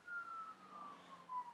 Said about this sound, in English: So it's got like a distant siren